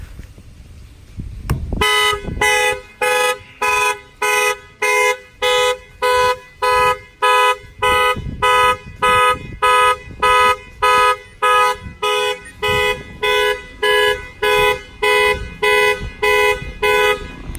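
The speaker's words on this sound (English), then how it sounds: "when the alarm fires off" A car alarm on an S550 blares in a fast, regular on-off honking pattern, loud and close, repeating for the whole stretch after a brief thump at the start, set off by banging on the tires.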